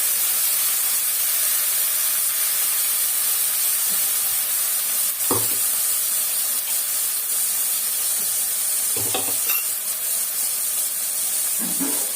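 Ground tomato sautés in a pan for garlic kuzhambu, giving a steady, loud sizzle and hiss throughout, broken by a few soft scraping stirs. No one speaks.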